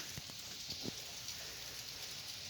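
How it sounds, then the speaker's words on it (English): Rain falls outdoors onto the ground and surrounding bushes, a soft steady hiss with a few faint patters, quiet and without voices. "Just hearing the rain hitting the ground and hitting the surrounding bushes, it has different frequencies of sound as it hits."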